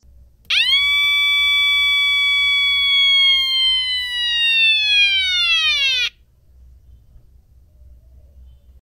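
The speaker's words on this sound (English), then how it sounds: "connect the power supply and the wailing siren circuit is now ready" A 555 timer siren circuit on a breadboard gives a loud electronic wail. The tone rises and falls in one sweep for about five and a half seconds, then cuts off abruptly into near silence.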